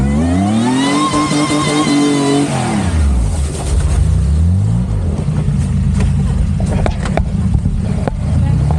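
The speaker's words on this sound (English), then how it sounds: "nothing like a supercharger" A supercharged off-road vehicle revving in snow, its engine rising and falling loudly close by with a strained, whining pitch, then a rougher churning roar with some voices.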